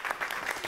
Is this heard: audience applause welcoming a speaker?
yes